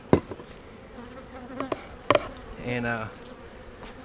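Honey bees hum around an opened hive split holding queen cells, a low buzz broken by a few sharp knocks and thumps of hive equipment, with a short spoken phrase near the start.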